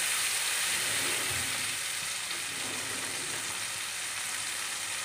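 Spices crackling in hot tadka for dal makhani, a steady loud sizzle that fills the whole stretch without a break, close up, with no voices.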